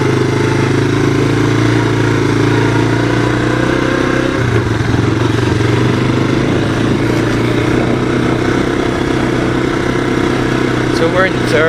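A 1985 Honda ATC 250SX three-wheeler engine while riding, a loud continuous droning hum that shifts pitch midway, with a person talking over it throughout.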